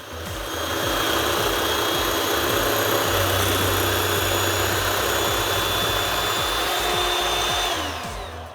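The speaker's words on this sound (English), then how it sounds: "we are going to beat our eggs until they're nice and fluffy" An electric mixer beating egg whites for a vanilla souffle, a loud, steady whirring drone that holds for several seconds before winding down, with no talk.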